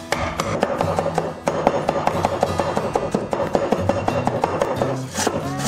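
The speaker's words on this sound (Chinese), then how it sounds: "大蒜拍碎，然后切成末" A knife mincing smashed garlic on a cutting board, a rapid, steady run of close, crisp chops with no talking.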